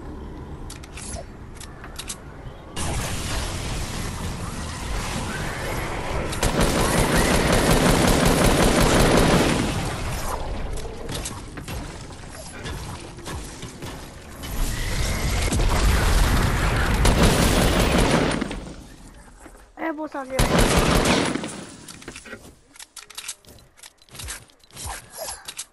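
Sustained, loud bursts of gunfire from the Fortnite video game rattle on for long stretches, with brief pauses between volleys and another burst near the end. There is little talk beneath the shooting.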